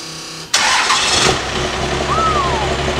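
A Cummins diesel flatbed truck engine cranks briefly and catches abruptly, jumping to a loud close roar before settling toward idle.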